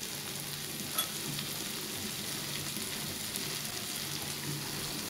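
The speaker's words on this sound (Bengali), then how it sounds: "আমি এখন মরিচটাকেও কিছুক্ষণ ভেজে নেব।" Green chilies sizzle steadily in hot oil in a pan, a dense, even frying hiss held at moderate loudness with faint stirring clicks throughout and no voices.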